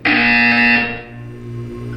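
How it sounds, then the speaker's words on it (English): A loud, harsh electronic buzzer in Portal 2 blares for about a second, then fades into a lower sustained hum. "You will hear a buzzer."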